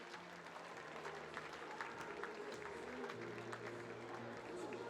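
An audience claps continuously at the IFSC Climbing World Championships lead qualification in Innsbruck. The applause is faint and steady, with scattered crowd noise and a low tone beneath it.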